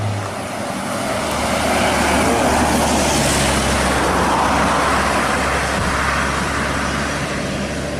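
A Minang intercity bus from West Sumatra rolls in, a loud, steady engine and road roar close by, swelling slightly and holding throughout with no talk.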